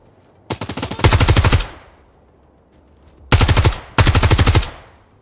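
Automatic gunfire in a tactical shooter game set aboard a hijacked oil tanker: three loud, rapid bursts, a short one near the start and two more after a pause, with no talk over them.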